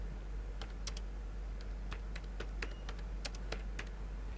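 Fingers tap on a computer keyboard in irregular, light clicks while a coding script is entered. The keystrokes sound close and fairly soft over a low steady hum, with no voices.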